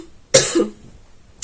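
A single sharp, close cough, followed a moment later by the start of another brief burst.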